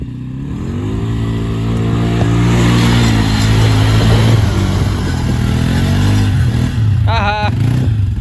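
Can-Am ATV engine revving hard through mud after heavy rain, a loud, close, rising and falling drone with a sharp higher rev near the end, voices in the background.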